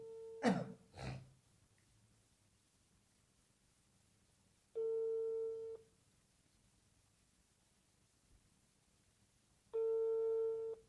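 An outgoing phone call rings back with two long, even tones spaced about five seconds apart, clear and alone after a brief throat clearing at the start.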